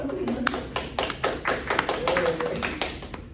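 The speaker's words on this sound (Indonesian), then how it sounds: "Tepuk tangannya dong." A small group claps in a steady, tapping rhythm to welcome a guest onto a podcast, the claps close and fairly even for a few seconds with a faint voice underneath.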